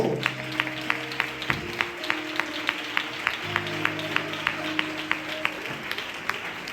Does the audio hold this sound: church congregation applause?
yes